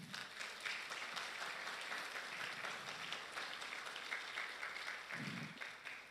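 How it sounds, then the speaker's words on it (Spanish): Faint, distant applause from a church congregation, a steady wash of clapping lasting several seconds without clear speech. "Le damos un aplauso al Señor por eso."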